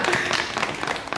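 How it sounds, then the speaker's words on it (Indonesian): Brief spatter of applause from a small group during a theme-song recording session, a short, fairly soft burst of hand claps lasting barely over a second. "Sementara segitu dulu tepuk tangan, thank you."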